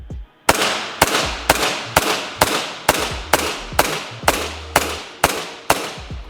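A WE Tech gas blowback airsoft pistol fires over a chronograph, about a dozen sharp, evenly spaced cracks roughly every half second, each followed by a brief mechanical clack, close and loud.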